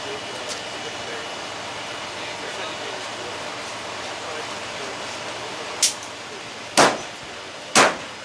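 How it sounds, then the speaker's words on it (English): The pick end of a Halligan bar strikes through a car roof during vehicle extrication training. Three sharp, loud impacts land about a second apart near the end, after a steady stretch of background noise. "Nick's taking the pick end of a Halligan trying to go through that roof"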